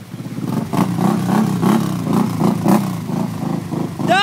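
A 700 V-Force snowmobile engine revs while stuck on a rock, loud pulsing throttle bursts that rise and fall in a wavering rhythm, close by, ending in a sharp higher whine.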